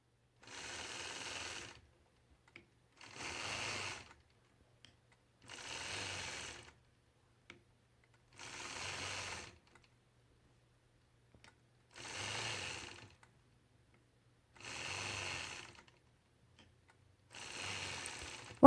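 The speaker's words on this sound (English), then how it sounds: "now I'm going to adjust my 4-in-1 machine quilting ruler and stitch some straight lines, creating corners on all 4 sides of this block" A sewing machine stitching straight lines while machine quilting a star quilt block with a quilting ruler, heard as seven evenly spaced bursts of rapid whirring stitching, each a second or two long and separated by brief quiet pauses, with no talk.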